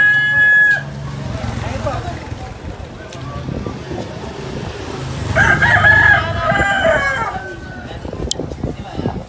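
Rooster crowing in a loose group of fighting cocks outdoors, with wind buffeting the microphone and people talking under and around the calls.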